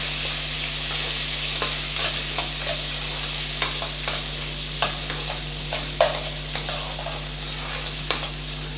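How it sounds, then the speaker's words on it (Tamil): Tomato and brinjal sautéed in a pan make a steady sizzle, with a spoon regularly scraping and stirring through it, loud and close with no talk. "ஒரு மீடியம் சைஸ் தக்காளி கட் பண்ணி வச்சுருக்கேன். அதையும் இது கூட சேர்த்துக்கலாம். நல்லா வதக்கி விட்டுக்கலாம்."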